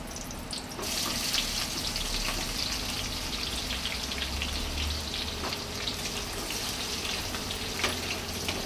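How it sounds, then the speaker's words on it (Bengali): Sliced onion rings frying in oil for a potato and chicken curry, a steady close hiss with scattered small pops and crackles that continue evenly throughout, no one speaking. "পেঁয়াজটা যখন আমি ভাজবো তখন আমি কিন্তু পেঁয়াজটার মধ্যে নুন দিয়ে দেবো"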